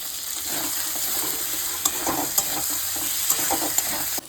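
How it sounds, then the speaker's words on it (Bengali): Chopped tomato and a green chili drop into frying masala for a desi-style chicken curry, giving a steady close sizzle with scattered stirring scrapes and a few sharp clinks, no voices. "এবার এর মধ্যে দিব যে কাটা টমেটো আর একটা কাঁচা লঙ্কা"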